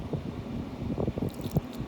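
Water mixed with coil cleaner drains from a serviced Trane AC unit, giving soft irregular squishing drips and trickles close by.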